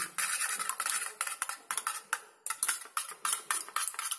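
Egg whisked together with salt and pepper powder in a bowl for crispy brinjal, a steady run of quick, close clinking and scraping strokes against the dish, loud and rhythmic with no talk.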